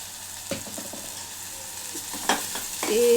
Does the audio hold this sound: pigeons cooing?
no